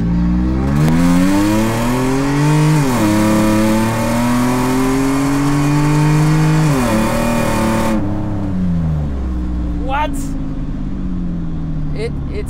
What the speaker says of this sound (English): now I'm gonna drive fast and make a bunch of noise